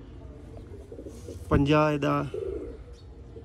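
Sialkoti Ali wale pigeons murmur softly nearby while someone speaks, his voice rising briefly over the low background of the birds.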